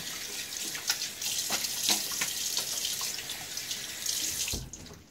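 Running tap water pours steadily into a sink while a razor and face are rinsed mid-shave with a Gillette Tech Hybrid, with irregular splashes over the constant flow and a brief louder splash near the end.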